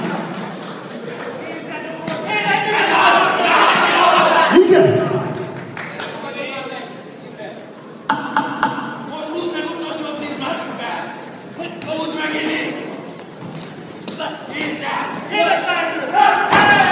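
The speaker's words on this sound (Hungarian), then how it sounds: "Köszönjük a tapsokat, köszönjük!" Crowd noise at a K-1 kickboxing fight event, a dense roar of cheering and shouting with thumps, while an announcer's voice speaks loudly over it throughout.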